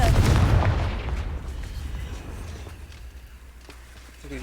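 A Confringo fire spell in Hogwarts Legacy bursts with a loud, booming explosion at the start, then decays into a rumbling tail that fades over several seconds, with a faint crackle near the end.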